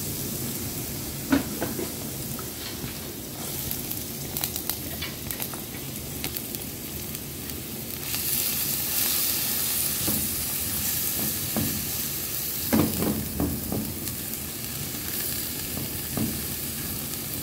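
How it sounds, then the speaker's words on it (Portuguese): Garlic and onion sauté in olive oil in a pot for a chicken pie filling, giving a steady, moderate sizzle with occasional scraping and stirring clinks, growing a little louder partway through. "Então, aqui numa panela, vamos colocar um pouquinho de azeite. Pra gente poder refogar o alho e a cebola."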